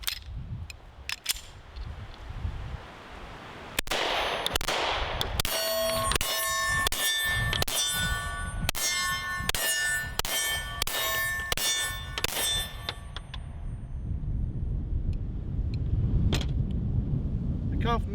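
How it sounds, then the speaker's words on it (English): Pistol shots from an Arex Delta Gen 2 fired outdoors at a metal target about 12 yards away, each crack followed by a bright ringing clang, in a rapid irregular string of hits with some gaps and a final lone ring. "And now I'm going to be shooting at that target from about 12 yards away, the metal target."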